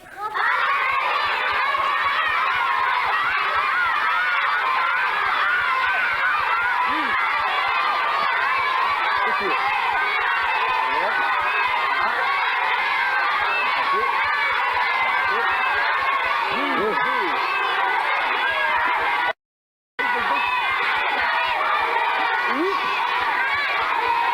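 A studio audience of children cheers and shouts without letup as kids compete in a basket toss game on a 1992 French TV show, dense loud crowd noise with screams, broken by one brief cut.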